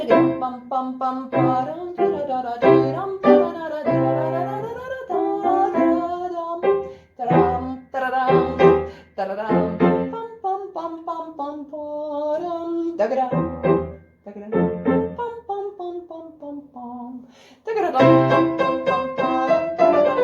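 Haydn's Concerto in C for cello with orchestral accompaniment, a melodic solo line over the ensemble with phrases that swell and pause briefly before a fuller tutti passage returns.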